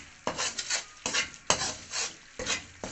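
Fennel powder fried in a pan for panjiri, heard as rhythmic scraping strokes of a spoon against the pan, repeated about every half second with a soft rasping texture and light sizzle, close and moderately quiet.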